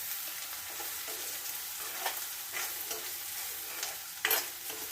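Liver roast being stirred in a pan, with soft scraping strokes every second or so over a quiet, steady sizzle, heard close and alone.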